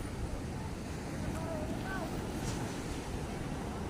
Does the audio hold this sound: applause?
no